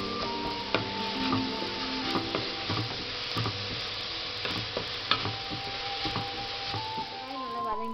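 Onions sauté with salt in a pan for quail curry, a moderate continuous sizzle with frequent clicking stir strokes, and no talk.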